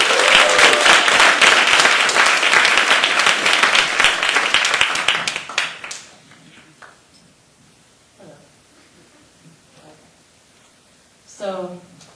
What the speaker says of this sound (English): please give a big applause for our last student storyteller, Jennifer Mitchell